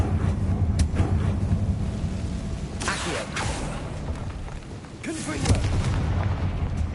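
Confringo fire spells cast during combat in Hogwarts Legacy, a couple of sharp blasts and booms ringing out over a dense layer of game music and action noise, with a voice talking across them.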